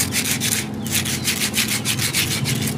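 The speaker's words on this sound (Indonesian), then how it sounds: "Untuk itu kita amplas dikit sobat. Pakai amplas kasar ya" Coarse sandpaper rubbed against a fan motor shaft, a loud, close, rhythmic scratching in quick back-and-forth strokes, steady and without talk.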